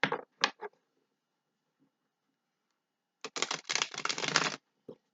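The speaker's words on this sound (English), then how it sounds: "Give her a couple shuffles." Quick riffling bursts of tarot cards being shuffled, a few short flicks at first, then a longer dense shuffle after a pause, close and crisp.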